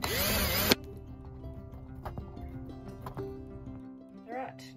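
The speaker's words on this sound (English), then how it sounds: "I'm just gonna use one of these screws." A power drill drives a screw into the wall of a van in a short, loud whirring burst at the start, followed by quieter clicks and handling sounds.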